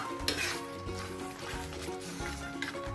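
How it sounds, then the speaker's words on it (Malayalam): Chicken fry being stirred and mixed in a hot pan, with steady loud sizzling and frying under repeated scraping of the spoon and clinks against the pan, close up and continuous. "നമുക്ക് എല്ലാം കൂടി ഒന്ന് നന്നായിട്ട് മിക്സാക്കി കൊടുക്കാം."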